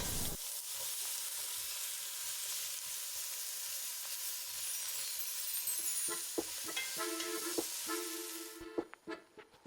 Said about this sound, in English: Stir fry for about 1 to 2 minutes.